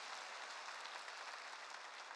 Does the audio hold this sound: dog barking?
no